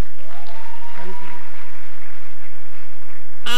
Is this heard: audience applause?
yes